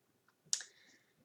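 A single sharp mouse click on a save button, crisp and close, ringing briefly in an otherwise quiet room.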